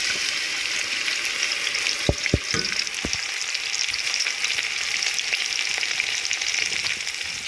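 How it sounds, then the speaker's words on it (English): Okra sizzles in hot oil for a Nigerian seafood okra soup, a steady, close hiss of frying throughout, broken by a few sharp clunks of a utensil against the pot early on. "We're not going to allow it cook too long, so that we're going to add the okra."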